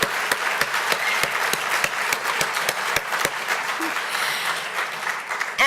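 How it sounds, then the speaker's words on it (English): Applause rises from the audience at a school speaker series event for military children, with sharp distinct claps punctuating a continuous spread of clapping that stays fairly loud. "Now we need to give a special round of applause here to Trent because he just got accepted to the"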